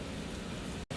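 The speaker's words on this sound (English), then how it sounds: "Raining pretty good here too." Heavy rain pours down during a storm at a welding shop, a dense, steady wash of noise broken by one very short dropout near the end.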